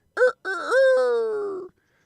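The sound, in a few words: rooster crowing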